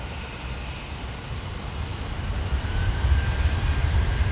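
A Star Alliance Boeing 767 jet at Heathrow Airport, heard as a steady broadband engine roar that swells gradually louder over a few seconds, with no voices present.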